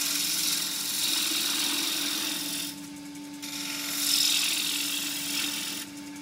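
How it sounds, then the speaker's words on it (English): A wood lathe hums steadily as a 3/8 spindle gouge cuts into a bowl being turned from a broken lid, giving a continuous close rasping hiss that eases and returns between cuts, no speech. "Still 3/8 spindle gouge. And although this is face work, you can use a spindle gouge on it."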